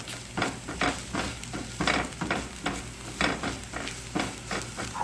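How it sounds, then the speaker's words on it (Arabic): Celery and mushrooms frying in a pan, a steady sizzle broken by repeated scraping stirs at a regular pace, close and moderately quiet, with no talking. "احط الكرفس الاول وبعد كده احمره شويه معاها، وبعد كده احط المشروم"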